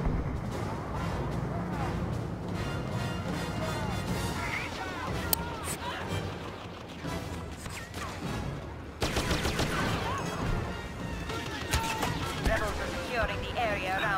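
Cycler rifle fire and other blaster shots in Star Wars Battlefront Drop Zone, dense and loud with sharp cracks and explosions, someone speaking over the battle noise.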